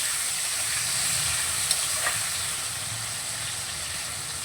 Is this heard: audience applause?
no